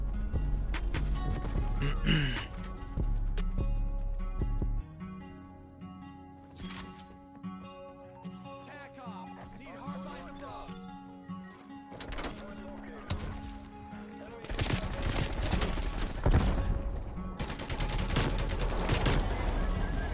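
UGR rifle firing in Call of Duty Cold War, loud rapid bursts of automatic gunfire starting and stopping, with game music and effects between bursts.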